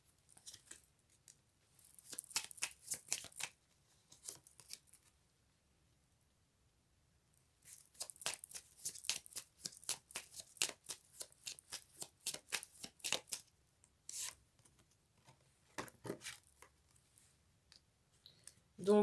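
Oracle cards shuffled and drawn by hand, giving bursts of rapid crisp riffling and flicking that stop and start with brief pauses, close and fairly quiet.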